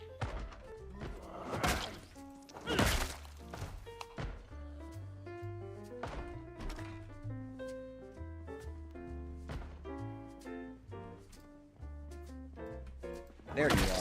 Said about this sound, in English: I hear something banging on the door somewhere